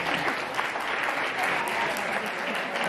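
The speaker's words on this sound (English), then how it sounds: "Rebecca, you can applaud her too." Audience at a Future We Want presentation in Marrakech claps steadily for a woman introduced on stage, a dense, sustained round of applause that holds at an even level throughout.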